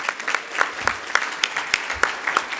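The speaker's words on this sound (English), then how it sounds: "Give him a round of applause also" Audience at a climate resilience and complete streets panel applauding, a crowd clapping with distinct close claps standing out over the wash, loud and continuous for a couple of seconds.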